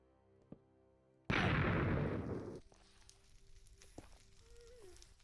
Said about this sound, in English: I just heard the explosion